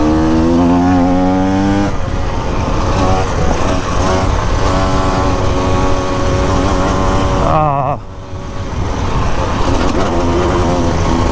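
A 2024 KTM 150 EXC two-stroke dirt bike rides hard across open plains, its loud, close engine revving and shifting with rising pitch sweeps, a brief throttle-off dip midway, then pulling strongly again.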